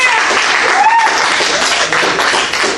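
Improv show audience bursts into steady, loud applause with a few cheers mixed in, sustained for a few seconds and heard close and full.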